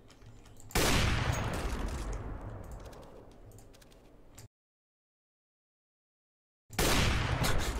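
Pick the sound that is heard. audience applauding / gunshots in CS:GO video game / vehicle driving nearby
gunshots in CS:GO video game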